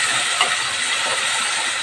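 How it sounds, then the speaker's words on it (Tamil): Chopped tomatoes frying in a pan for a hotel-style vegetable kurma give off a steady, loud, broadband sizzle and hiss that holds without a break for the whole stretch, with no voices over it. "தக்காளி போட்டு நல்லா வதக்கி விட்டுடலாம்."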